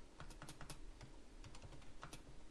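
Code is typed on a computer keyboard in quick, irregular bursts of close keystrokes, fairly quiet and with no voice over them.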